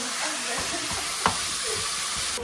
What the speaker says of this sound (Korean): 고기를 넉넉하게 지금 준비를 해서 볶고 있습니다